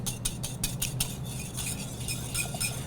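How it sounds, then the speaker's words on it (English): Wire whisk clicking rhythmically against a bowl while oil and vinegar are beaten into a vinaigrette, a steady run of quick metallic taps up close with no talking. "just take your time and make sure that you're whisking to incorporate"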